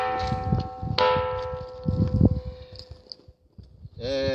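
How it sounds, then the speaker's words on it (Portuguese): A hand strikes the Pedra do Sino, a rock in Brazil that rings like a bell. Several sharp knocks sound close by, each leaving a sustained metallic ring that decays slowly. Faint rustling fills the gaps between strikes. "quando a gente bate nela, ela emite um som, parece um sino"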